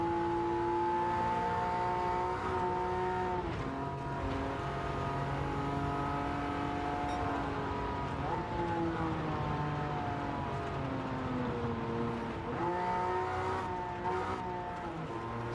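A Suzuki car engine in a racing video game revs steadily, its pitch climbing and dropping through repeated gear shifts over about fifteen seconds, loud and continuous with no talking.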